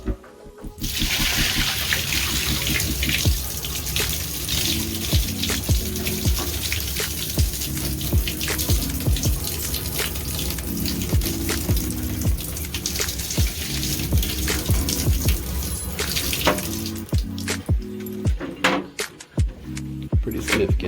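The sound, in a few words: water being dumped from dehumidifier bucket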